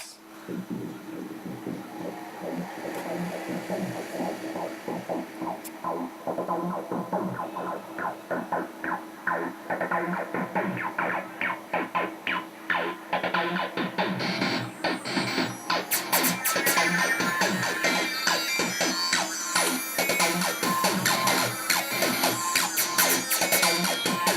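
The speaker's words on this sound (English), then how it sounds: "with just this whole synth section being soloed sounds like this" A driving electronic synth line with rapid pulsing notes, its filter opening and brightening steadily into a loud, buzzing, squelchy acid lead.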